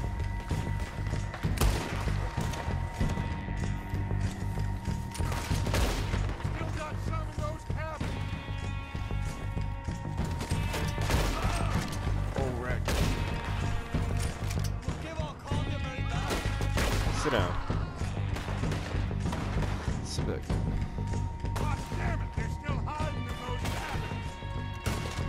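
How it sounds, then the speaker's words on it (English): Gunfire from a snowy shoot-out in the video game Red Dead Redemption 2: repeated loud shots and impacts burst throughout, layered over a dense, constant wash of game music and ambience. "Or just shooting randomly"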